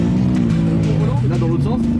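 A car accelerating away from standstill on a racing circuit, its engine note rising steadily and staying loud and close throughout, with voices talking over it.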